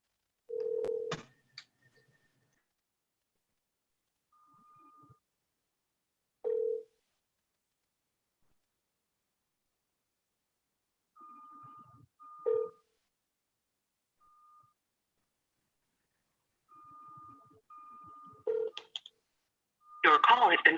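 A telephone is dialed, giving short separate keypad tones spread out over the time, each a clean steady beep, followed by quieter ringback tones and a brief burst of noise at the end.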